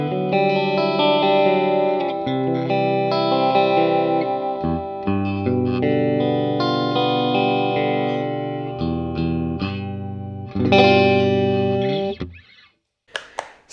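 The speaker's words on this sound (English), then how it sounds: "if we turn on both of the Strat single coils, we get a very telly-ish in-between sound" Electric guitar with both Stratocaster-style single-coil pickups switched on for an in-between tone, run through a home practice rig with effects, playing sustained chords and notes up close, ending with a brief scrape.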